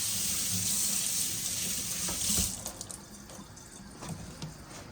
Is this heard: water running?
yes